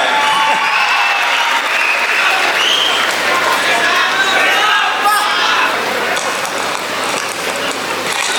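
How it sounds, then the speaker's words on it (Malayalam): Loud, sustained applause from a large crowd at a film launch event in Thiruvananthapuram, steady clapping filling the whole stretch with cheering mixed in. "സ്വാസികയെ വേദിയിലേക്ക് ഒരു വലിയ കൈയടി നൽകി സ്വാഗതം ചെയ്യാം."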